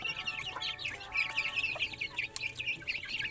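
Several chickens cluck continuously at moderate distance, overlapping soft calls and chirps forming a busy, steady barnyard chatter.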